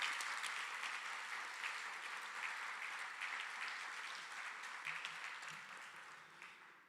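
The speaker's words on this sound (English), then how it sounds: "Please give our folks a big round of applause and a welcome." An audience at the LSU presidential investiture of William F. Tate IV gives a sustained round of applause, a dense, even wash of clapping that slowly thins and fades toward the end.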